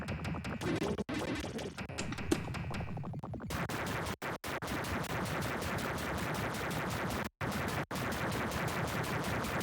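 Rapid, steady gunfire from the Sega video game Starflight, a dense stream of shots that keeps going for several seconds with a few brief gaps, no voices over it.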